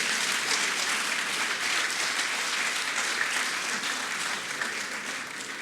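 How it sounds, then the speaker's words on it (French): Audience applauding President Macron at a parchment presentation ceremony, a dense, steady clapping that holds at full strength throughout with no talk over it. "On applaudit encore le président Macron."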